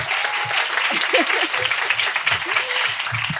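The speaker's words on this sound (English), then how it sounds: "Please give her another hand clap." Audience at a women's conference summit in Brunswick County gives a warm round of applause, crisp massed clapping close and lively, with a voice speaking over it in the low range.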